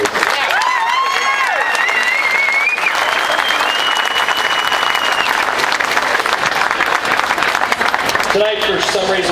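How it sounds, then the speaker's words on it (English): Sustained applause and cheering from a large crowd at a motorcycle ride rally honoring two people, with whistles and voices mixed in throughout and a short spoken announcement breaking in near the end. "One more round of applause for Ted and Lisa"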